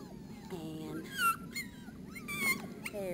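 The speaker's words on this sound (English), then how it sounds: "Hey, little puppies." Brittany puppies whimpering and yipping nearby in a string of high, wavering cries over a few seconds, with a person talking softly underneath.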